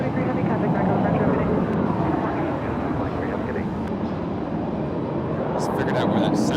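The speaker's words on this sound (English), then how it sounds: "This Phenom's doing an engine run." An Embraer Phenom jet does an engine run at an airport, its loud, steady turbine roar and rushing whine filling the air continuously for the whole span.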